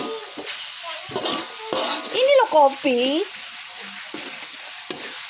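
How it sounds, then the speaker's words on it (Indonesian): Sausage and eggplant are fried and stirred in balado spice paste, giving a close, steady sizzle with scraping stirs, while voices talk over it in bursts, including a child. "Kita goreng lagi sampai bumbunya kering."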